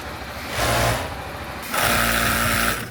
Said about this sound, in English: I'm going to show you the process of what she does to actually sew that together